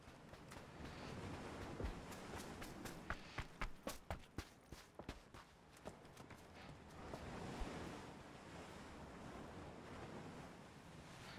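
Ocean waves and surf wash steadily on a windy shoreline in the PUBG game on the Miramar map, with a run of sharp clattering taps mixed in partway through.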